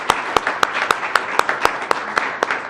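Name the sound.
audience applause for the panelists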